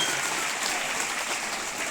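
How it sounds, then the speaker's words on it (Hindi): Crowd at a school sports competition giving a loud welcoming applause, a dense, steady roar of many hands clapping at once, sustained without pause. "एक बार जोरदार तालियों के साथ स्वागत करें"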